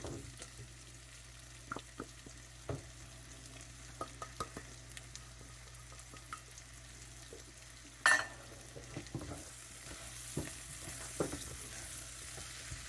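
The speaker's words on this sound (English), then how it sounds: "Just stir that around until it looks pretty incorporated" A tomato soup base with herbs and paprika is stirred in a pot, producing a soft, low sizzle with light intermittent spoon taps and scrapes and one sharper knock midway.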